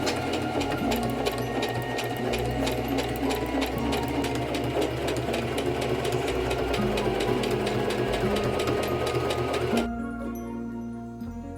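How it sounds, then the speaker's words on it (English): An electric sewing machine stitches fabric for small doll bodies with a steady, fast mechanical whir and needle clatter that runs continuously for about ten seconds, then cuts off abruptly, leaving a quieter hum. "with a sewing machine, it makes it a little bit easier"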